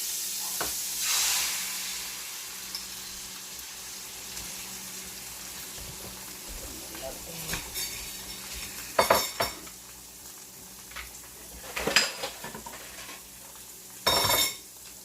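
An egg sizzles faintly in a hot pan while an egg, cheese and potato omelette is made, a steady soft hiss broken by a few sharp clinks and scrapes of utensils against the pan.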